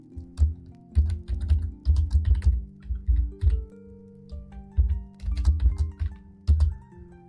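Keys clatter on a computer keyboard in uneven bursts of rapid typing, close and clear, with short pauses between runs.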